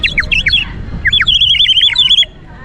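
A water-filled bird whistle toy chirps in rapid warbling trills, loud and close, in two bursts separated by a brief pause, with a faint voice in the background.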